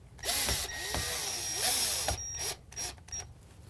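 Screws driven into a switch on an RV's 12-volt DC system, heard as several short power-driver whirs and ratcheting bursts, close by and separated by brief pauses.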